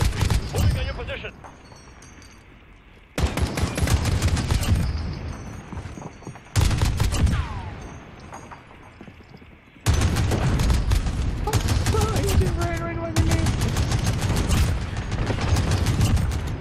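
Heavy gunfire from big-calibre bullets in a Modern Warfare survival match, loud bursts that start and stop in blocks, with mechanical clatter and voices talking over the shooting.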